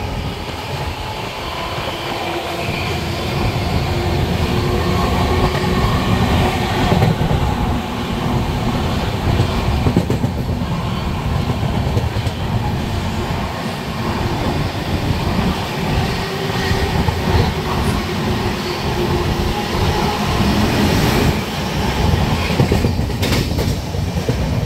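The 12276 Humsafar Express train from Delhi to Prayagraj rumbles steadily at speed, heard from on board as a continuous loud roar with rhythmic wheel clatter and occasional faint squeals, no voices present.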